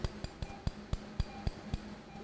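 A surgical chisel struck by a hammer cracks thin bone during endoscopic sinus surgery, giving eight sharp, evenly spaced metallic taps close up over a low steady hum.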